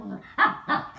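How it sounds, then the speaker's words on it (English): A dog gives two sharp, close barks in quick succession after a brief whimpering sound, fairly quiet overall. "Stop barking."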